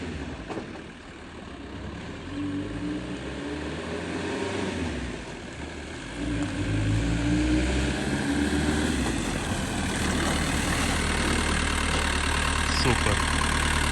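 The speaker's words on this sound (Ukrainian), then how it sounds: "Зараз ми вам покажемо, як він тормозить." A Hummer out on its first drive after repair rolls along, its engine droning loudly with the pitch rising and falling as it speeds up and slows for braking, with wind noise over a steady low rumble.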